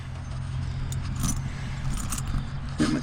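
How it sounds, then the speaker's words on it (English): A bunch of keys jangles and clinks steadily as they are untangled beside a running Caterpillar D8N bulldozer, with the low diesel drone continuous beneath. "Get my keys untangled here."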